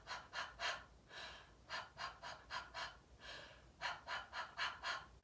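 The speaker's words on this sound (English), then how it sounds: "some exercises we can do to really engage that diaphragm, that core, where our breathing comes from, are dog pants." Dog-pant breathing exercise for voice lessons: quick rhythmic bursts of panting breath in two runs of short pulses with a brief pause between, close and fairly soft.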